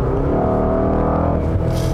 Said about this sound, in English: I am noticing that the ZF 8 speed in this car actually shifts a little quicker